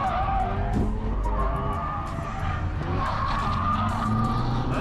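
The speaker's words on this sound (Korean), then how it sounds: "아웃에 있던 선수와 또다시 컨택이 생기면서 스핀이 발생하고 말았습니다" Race cars roaring close by during a race, one spinning after contact, with tires skidding and squealing over steady engine noise, a busy continuous racing din.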